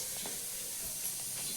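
A kitchen pressure cooker lets off a continuous, fairly loud steady hiss of steam with no break.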